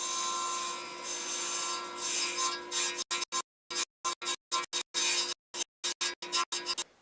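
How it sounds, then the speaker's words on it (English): Power drill boring an axle hole through a stack of glued wooden layers, first a continuous loud grinding run, then a rapid series of short stop-start bursts with silent gaps between them. "now I'm going to use a drill to provide an axis to spin these on."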